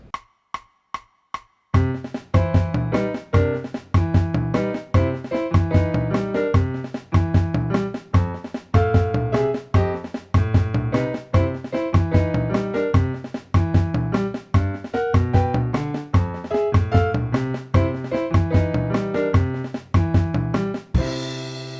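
Solo piano plays right-hand sixths over dominant chords with a rhythmic left-hand pattern, bright chords struck in a bouncing, regular pulse for about twenty seconds, unaccompanied.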